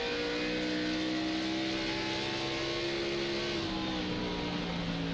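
An iRacing stock car engine on the New Hampshire oval drones loud and close, its pitch holding steady and then dipping slightly as the driver eases back onto the throttle, with no voices over it.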